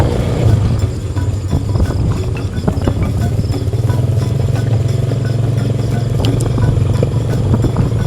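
A motorcycle ridden along a rural road, engine droning steadily up close with wind buffeting and light rattles, no talk.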